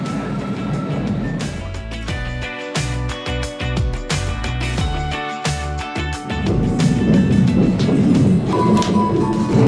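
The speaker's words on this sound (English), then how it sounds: "the train was just doing switchbacks up the side of the mountain" A PeruRail Expedition passenger train rumbles along the tracks between Cusco and Machu Picchu, climbing mountain switchbacks, with rhythmic clickety-clack beats from the wheels, steady and close, growing slightly louder toward the end.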